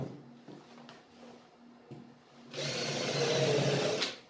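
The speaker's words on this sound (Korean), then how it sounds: "이렇게 이중 비트로 나사 구멍을 내고" A power drill with a double countersink bit bores a screw pilot hole in laminated wood for a stool, starting with faint handling clicks and a low hum, then a loud steady whirring grind for about a second and a half before stopping.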